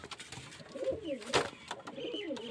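Pigeons cooing close by, several soft throaty rolling coos repeating over a faint background, with one brief rustle or flutter in the middle.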